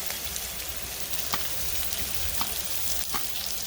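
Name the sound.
shrimp sizzling on a hot pan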